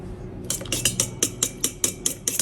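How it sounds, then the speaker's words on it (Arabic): A spoon whisks yogurt and tahini sauce in a bowl, giving a quick, even run of close clinks and scrapes against the side, about eight strokes after a quiet start, with no voice. "نخفقهم كتير منيح، وهيك الصوص عنا جاهز"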